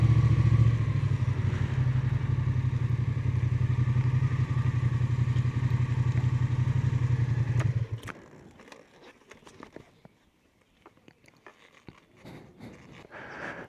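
A Yamaha XSR700 motorcycle engine and exhaust drone steadily while riding for about eight seconds, then the rumble drops away to quieter scattered clatter and light rattles.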